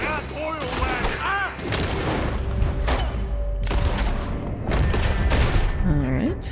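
A gunfire shootout in Red Dead Redemption 2 at Annesburg, with repeated loud rifle and pistol shots and booms over several seconds, mixed with shouting voices and background game sounds.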